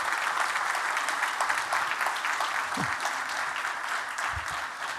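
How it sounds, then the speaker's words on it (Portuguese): Church congregation applauding together, a steady dense wash of clapping that holds at an even level throughout, with a brief low thump near the end. "Pode aplaudir"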